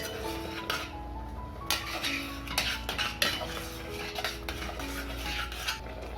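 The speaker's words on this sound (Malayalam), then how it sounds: "അപ്പോൾ എല്ലായിടത്തും നന്നായിട്ടൊന്ന് തിള വന്നിട്ടുണ്ട്. ഒന്നുകൂടി ഒന്ന് മിക്സ് ചെയ്യാം." A spoon scrapes and clinks against a pot while boiling tamarind curry is stirred, making repeated close metallic taps over a steady low bubbling, with no talking.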